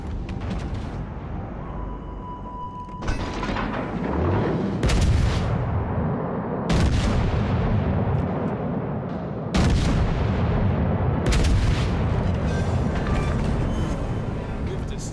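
Warship guns fire repeatedly in World of Warships: Legends aboard the Italian battleship Giulio Cesare, heavy booming salvos rolling out every few seconds over a continuous rumble, with in-game radio voice calls heard over the barrage.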